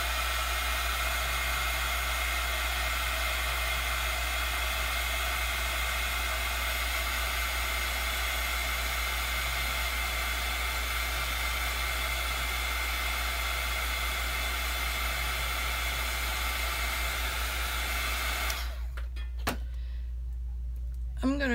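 A hair dryer blows a loud, steady roar to dry wet watercolour paint swatches, running continuously for a long stretch before abruptly cutting off near the end.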